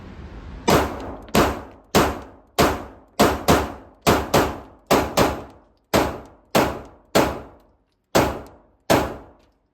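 A Ruger RXM pistol fires about fifteen shots in a steady, evenly spaced string, each a sharp close crack with a short decaying ring.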